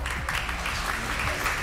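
A studio audience at a TV game show breaks into applause, a brief, dense burst of clapping heard alone and fairly close.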